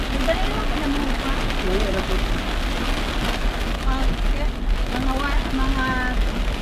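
Heavy rain drums steadily on a car while driving through flooded streets in Davao, Mindanao, a loud continuous wash with voices talking over it throughout.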